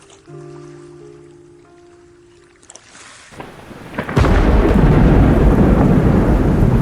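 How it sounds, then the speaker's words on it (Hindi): Quiet low tones and hiss give way to a loud crack of thunder, then a dense, roaring downpour of heavy rain fills the rest. "जोरदार बारिश शुरू हो गई"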